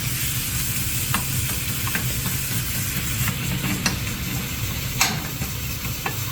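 Meat stir-frying with gochujang in a hot pan, a steady loud sizzle throughout as a spatula breaks up clumps, with occasional scraping clicks over the frying.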